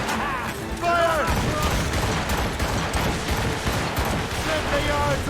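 Ship cannons fire in a naval battle in Assassin's Creed III, with a rough barrage of booms and bursts under shouted voices.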